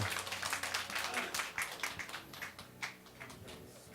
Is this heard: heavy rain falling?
no